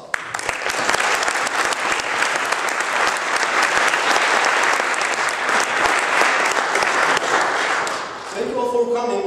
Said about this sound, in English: I think they deserve a big round of applause.